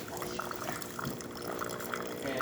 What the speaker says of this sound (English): Now we're going to be using the hot water, and as you can see, the machine keeps hot water instantly. Good flow coming out of the spouts.